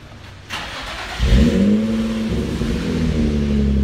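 An Infiniti G35 with an aftermarket dual exhaust of polished aluminum and stainless steel starts up close by: a cranking whir, then a loud catch into a deep rumbling idle with a short rev that settles into a steady drone.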